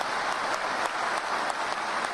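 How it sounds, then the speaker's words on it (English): Steady, dense audience applause at the 2018 ESPYs awards show for two Team Rubicon members, a large crowd clapping continuously at an even level throughout. "Give them a round of applause"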